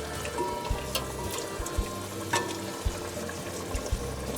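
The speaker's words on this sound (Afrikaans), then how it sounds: "En dan roer ons hom weer lekker deur." Stew with tomato sizzles and crackles steadily in a potjie pot while a utensil stirs through it, with a few soft knocks and scrapes against the sides.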